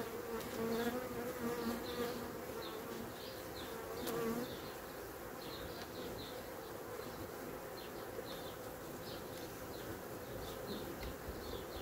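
Honeybees buzz steadily around queen cages fixed to frames in a hive. The drone is soft and continuous, with the hum of individual insects drifting close by.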